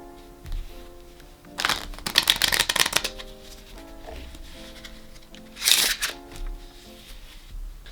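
A deck of playing cards is riffled together on a tabletop in two quick bursts of dense, crisp flutter, each a second or so long, with a soft tap and a quiet background tone in between.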